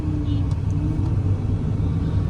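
An automatic car rolls toward the entrance of Mall of Asia in Bangalore, heard from inside as a steady low engine and road rumble with no distinct events.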